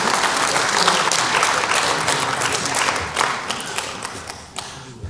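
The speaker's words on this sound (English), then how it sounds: "Let's give Congressman Manzullo another round of applause" Audience applause after an address by Congressman Manzullo at an international forum on Korean unification, a dense, steady wash of many hands clapping that carries on for five seconds and thins slightly toward the end.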